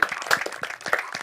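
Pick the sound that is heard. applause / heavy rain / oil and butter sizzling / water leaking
applause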